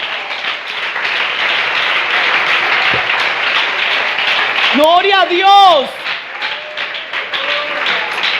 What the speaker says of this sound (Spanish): Dale ese aplauso al Rey de la Gloria.